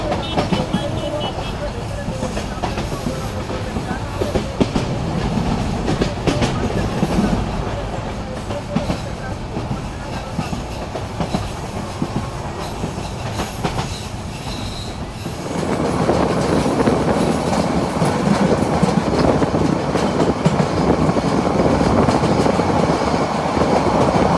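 The Sonar Bangla Express leaves Brahmanbaria railway station on a curve, heard loud and close from on board. A continuous heavy rumble carries clattering wheels and squealing, and it grows louder partway through.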